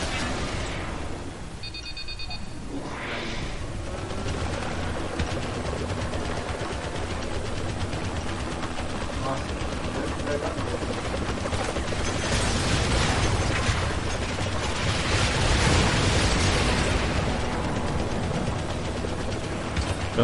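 Dense, continuous barrage of gunfire and explosions from the video game Renegade Ops, loud and sustained throughout with booming bursts and a brief ringing tone early on.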